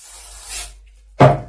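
A soft hiss of aerosol spray baste onto fabric rises and fades, followed by a brief, sharper burst with a louder, rougher texture.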